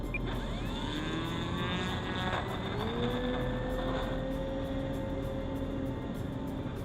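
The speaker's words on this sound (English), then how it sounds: "Nice scale flight takeoff, right?" An E-flite radio-controlled model airplane takes off at night in still air, its electric motor giving a steady, whining drone that climbs in pitch as the plane gains speed.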